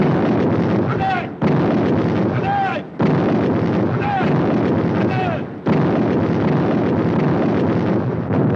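Soviet artillery barrage pounding Finnish defenses in the Winter War, 1939–40: a continuous roar of heavy guns and blasts with short breaks, under a narrator's voice.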